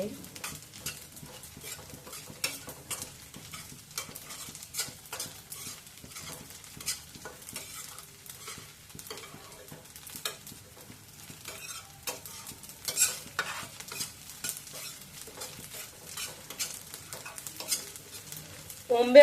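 Green wheat ears stirred and roasted in a pan for sheera, with soft continuous sizzling and repeated scraping stirs against the pan, steady and close throughout.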